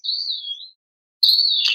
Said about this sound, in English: I sit out here and I listen to birds chirp.